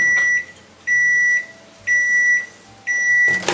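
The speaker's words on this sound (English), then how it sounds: "You're gonna stick that sock in the microwaves" A microwave oven runs while heating a sock filled with rice for molding Intuition ski boot liners, its steady hum punctuated by four loud, evenly spaced beeps, each lasting about half a second.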